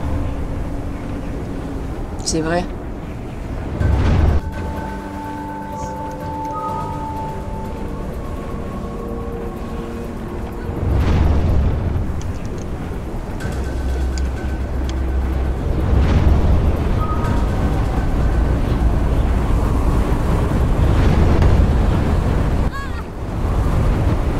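Water in the video game Never Alone washes and surges like surf in loud, rolling swells mixed with windy gusts, joined by brief tonal game sounds along the way.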